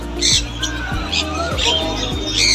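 Several harsh, short lovebird squawks repeat at a bright pitch over a constant low mechanical hum, with faint chirps scattered between them, at the Serampore bird market.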